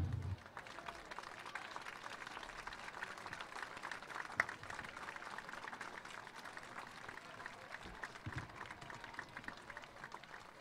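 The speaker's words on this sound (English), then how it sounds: "give a huge round of applause to Big Don Adams' family" A stadium crowd at a Vineland versus Bridgeton high school football game applauds a family in memory of a friend, a faint, distant wash of clapping and crowd noise that holds steady throughout.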